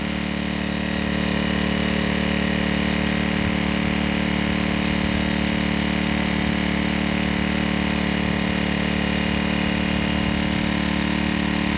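The small engine of a water pump drones steadily at close range, a constant buzzing hum with no change in pitch or pace throughout.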